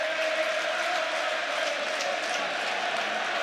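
Football crowd noise at the Etihad stadium during a Manchester City match: a distant, steady roar of many voices with faint chanting and cheering, sustained throughout at moderate level.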